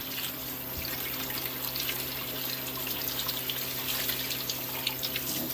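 Potatoes being rinsed under a running tap while preparing hash browns, a steady close rush of water splashing into a sink, alone without talk.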